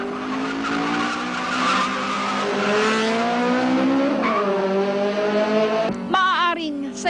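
Cars racing with tires skidding and squealing in a long, continuous screech over engine roar, with sharp rising whines near the end.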